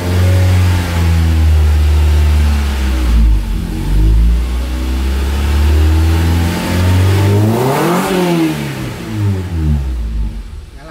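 A Honda Accord CB7 engine swapped into a car runs loudly up close, idling roughly then revving up and back down in rising and falling sweeps, with no talk.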